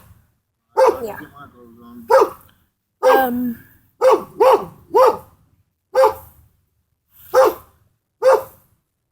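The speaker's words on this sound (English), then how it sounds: "It's just the dog." A dog barks repeatedly in sharp, close bursts spaced a second or so apart outdoors, interleaved with people talking.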